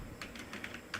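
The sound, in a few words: typing code on a computer keyboard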